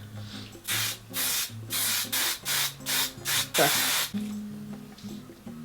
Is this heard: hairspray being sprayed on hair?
yes